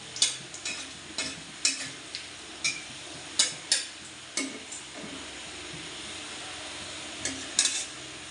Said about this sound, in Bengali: এরপরে দেবো শুকনো লঙ্কা, ফোড়নটা একটু ভালো করে ভেজে নেব।